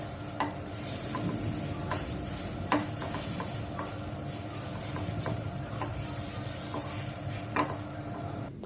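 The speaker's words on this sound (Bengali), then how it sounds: "তো আলুগুলো হালকা ভেজে নিলাম" Potatoes frying in a pan with salt, turmeric and chili powder while being stirred, a steady close sizzle with scraping stir strokes throughout, no talking.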